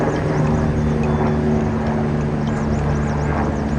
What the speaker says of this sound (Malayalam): ദേ ഒരു ഹെലികോപ്റ്റർ പോകുന്നുണ്ടേ.